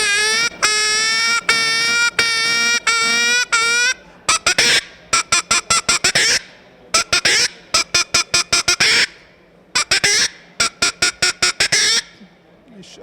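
A hand-operated game call whistle imitates hen clucking to lure a fox: first a row of loud, evenly spaced tonal squawks, then fast rhythmic bursts of sharp clucking clicks, close and alone.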